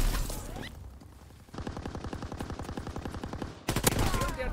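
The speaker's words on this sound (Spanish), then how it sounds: "Disparo de mortero en la zona." Bursts of rapid gunfire and heavy mortar blasts in Call of Duty WWII multiplayer, with a sharp rattle of shots mid-clip and another loud volley near the end.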